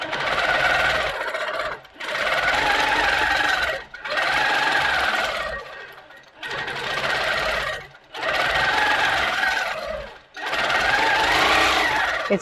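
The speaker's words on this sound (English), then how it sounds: "I'm just going to give you a demo of, so a bit of free motion quilting" A Moxie XL quilting machine stitches rapidly during free-motion quilting at a set speed of 250, running in six steady bursts of a couple of seconds each, separated by brief pauses.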